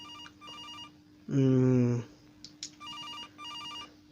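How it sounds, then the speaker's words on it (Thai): A telephone rings in the horror video game Case: Animatronics, a repeating electronic trill in evenly spaced bursts. A voice briefly cries out between the rings. "อุ้ยเสียงโทรศัพท์ดัง"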